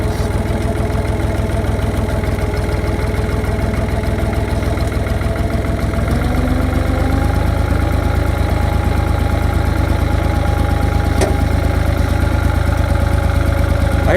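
A tractor engine drags a log toward a sawmill, its loud, steady low drone running throughout, with the pitch and load shifting about halfway through.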